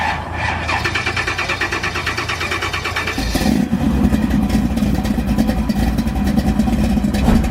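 A 1967 Chevrolet Camaro muscle car engine cranks with a rapid rhythmic starter whir, then catches and settles into a loud, throbbing, uneven rev close by.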